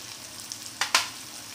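Coriander powder drops into a pan of sizzling cucumber curry with curry leaves, giving a soft steady fry hiss with two sharp bursts of sizzle close together, then a quieter crackle underneath.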